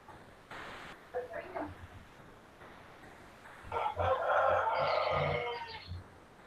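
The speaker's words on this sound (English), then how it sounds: "Listen to the roosters." Roosters crowing in the morning, heard as a short call and then a longer, louder crow, somewhat distant under faint room noise.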